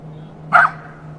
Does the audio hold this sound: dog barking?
yes